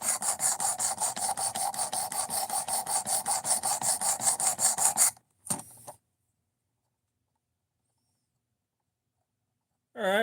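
A knife blade is drawn across a whetstone in steady rhythmic rasping strokes, close and fairly loud, for about five seconds, then a brief scrape, a long silence, and a short burst of sound at the end.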